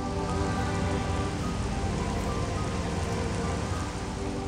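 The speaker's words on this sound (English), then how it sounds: "the rain is falling down on your visor and arm cannon" Steady, dense rain falling on the alien world of Talon IV in Metroid Prime, a continuous hiss of drops on surfaces with no talking.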